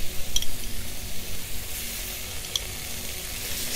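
Tomato paste sizzles and fries in a hot kazan alongside chicken hearts, giving a steady crackling hiss with a couple of faint metallic clinks from a utensil and no talk.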